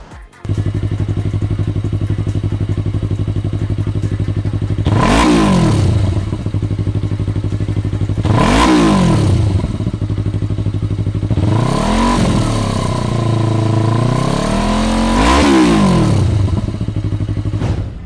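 A five-year-old Yamaha R3 motorcycle with 65,000 km and an Akrapovič exhaust idles loudly and close by, then is revved four times in sharp rising and falling blips, with no talk.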